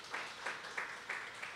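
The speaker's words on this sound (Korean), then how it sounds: "우리 박수 한번 쳐줄까요?" A church congregation at a Friday worship service claps in applause, heard as faint, soft bursts of hand claps roughly every third of a second, fairly distant and low in level.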